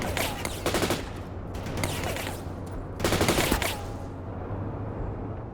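Sustained automatic gunfire from a Bradley vehicle returning fire in the video game World in Conflict, dense overlapping bursts of rapid shots, the loudest around the start and near three seconds, with a lingering rumble between bursts.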